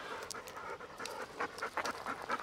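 Dogs pant quickly and rhythmically up close at a wilderness trailhead in Indiana before a backpacking hike, quiet breathy huffs repeating in short uneven bursts without any talk.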